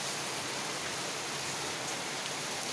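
Heavy rain pours in a dense, steady hiss of broadband noise, continuous and enveloping, with no voices.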